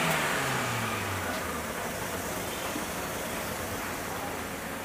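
A Maruti Suzuki Wagon R with a speedometer fault, running in gear while stationary so the wheel turns, makes a steady mid-pitched engine drone that starts with a brief falling rev and then holds even and close.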